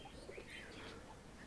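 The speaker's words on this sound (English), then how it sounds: "These birds are flying from this neighborhood towards the city" Morning birds over a Dhaka neighborhood, with faint chirps and tweets and soft cooing over steady outdoor ambience, distant and without talking.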